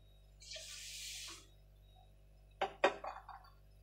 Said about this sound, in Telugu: ఇప్పుడు నేను డబ్బాకి డబ్బాన్నర వాటర్ యాడ్ చేస్తున్నాను.